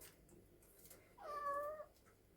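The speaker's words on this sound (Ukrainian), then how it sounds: "Не нявкай, ти не голодний, сонце ясне." A domestic cat in a village kitchen on a sunny morning lets out a single drawn-out meow midway through, close by but fairly soft, against a quiet room with no talking.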